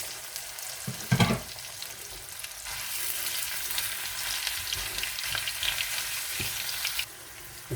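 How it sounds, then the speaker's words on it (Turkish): Minced meat frying in melted butter in a pan, a steady close sizzle with stirring scrapes and a brief louder burst near the start, no voices. "şimdi kıymamızı kavurma işlemine geçebiliriz"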